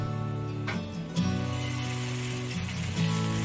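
Garlic slices fry in oil in a hot wok over low heat, giving a steady, close sizzle throughout with a faint low hum beneath and no talk.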